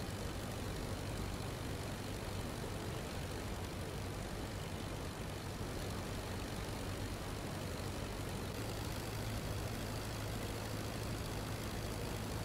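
An Albatross D.II biplane's engine drones steadily in flight in Rise of Flight, a constant, even propeller-engine hum with no breaks for the whole stretch.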